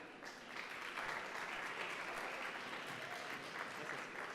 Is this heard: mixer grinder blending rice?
no